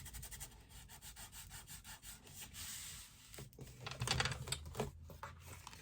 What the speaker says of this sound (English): Let me rub the page down.